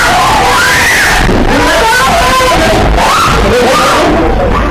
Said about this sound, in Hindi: चीख पुकार ने जरूर आपके अंदर भी दहशत फैला दी होगी